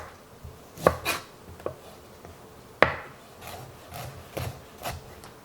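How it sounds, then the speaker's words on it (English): A knife chops ginger on a board in several separate, close-up strikes, sharp knocks spaced unevenly with a soft rubbing scrape between them. "we're going to chop our ginger"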